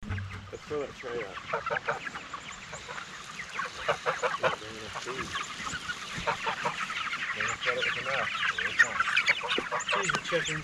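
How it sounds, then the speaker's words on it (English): Chickens on a farm keep up a dense, overlapping clucking and squawking nearby, growing slightly busier toward the end, with no voices over them. "These are chickens."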